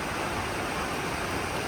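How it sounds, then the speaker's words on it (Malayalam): Heavy rain pours outdoors at Illikkal Kallu in Kerala, a dense, steady hiss of downpour with no breaks, close and loud throughout. "നല്ല മഴയും മഞ്ഞൊക്കെ അങ്ങോട്ട് കയറി വരുന്നുണ്ട്."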